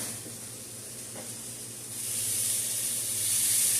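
Steady hissing sizzle of eggs frying in a pan, growing slightly louder partway through, with no voices.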